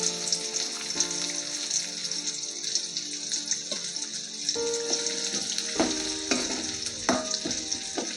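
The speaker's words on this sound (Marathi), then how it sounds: "हा कांदा आपल्याला थोडासा लालसर करून घ्यायचा आहे." Chopped onion sizzles in hot oil with cumin for rice flour upma, a steady close crackle broken by clinks and scrapes of a stirring spoon against the pan, with no talking.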